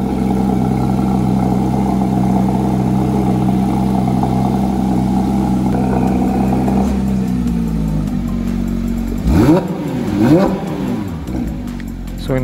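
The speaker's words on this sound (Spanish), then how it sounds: "qué mejor que escuchar su cold start en un lugar encerrado. Este carro la verdad suena espectacular" Porsche 911 GT3 of the 992 generation with sport exhaust and twin centre tailpipes, idling loud and close in an enclosed space after a cold start, then blipped in two sharp revs that rise and fall.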